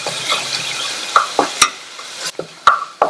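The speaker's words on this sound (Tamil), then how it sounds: "இத வெண்ணெயிலேயே லைட்டா வறுத்து விட்டுக்கங்க" Ground garlic, cumin and green chili paste frying in melted butter for a green gram soup, a light sizzle broken by several sharp spoon clinks and stirs against the pan.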